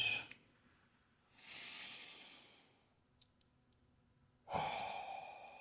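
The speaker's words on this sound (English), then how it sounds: "A couple of deep exhales to get into the right mood." Someone in a seated yoga position lets out slow, deep exhales, three breathy sighs spaced a few seconds apart, close and soft in a quiet room.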